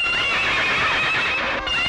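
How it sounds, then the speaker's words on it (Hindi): A horse whinnies loudly and close, a long quavering neigh that rises and falls across the whole moment, with faint hoof clatter underneath. "गलती से खुद ही शराबी घोड़े पर बैठ के चली गई"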